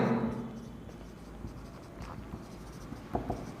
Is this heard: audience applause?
no